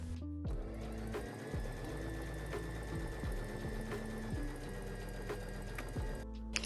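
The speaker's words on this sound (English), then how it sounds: "I'm just going to stitch that on my sewing machine using a straight stitch." A sewing machine runs a straight stitch through heavy denim, a steady mechanical whir with rapid needle rhythm lasting nearly the whole stretch, broken by brief pauses and restarts, close and clear with no talking.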